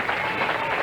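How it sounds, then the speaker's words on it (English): A bowling crowd at the 1998 PBA National Finance Challenge applauding and cheering for bowler Forkel, a steady wash of clapping and voices of moderate loudness in a short burst. "Crowd, big cheer for"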